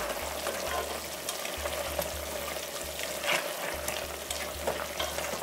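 Lamb and potatoes frying in a pan while being stirred: a steady close sizzle with repeated scrapes and soft knocks of a spoon through the mixture, no voices.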